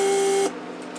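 A repaired Mercedes door lock pump runs loudly with a steady electric whine and tonal hum for about half a second, then cuts off, leaving a quieter background hiss.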